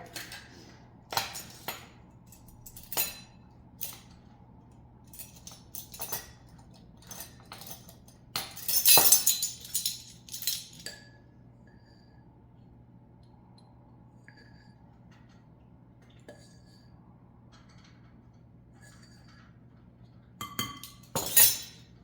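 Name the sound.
glass dishes clinking together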